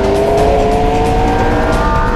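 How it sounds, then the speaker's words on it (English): McLaren twin-turbo V8 with a flat-plane crank accelerating hard from about 90 to 130, a loud steady engine roar with rising tonal whine filling the whole stretch, close and continuous with no talk. "McLaren's got a couple of turbos pushing air into a V8 flat plane crank."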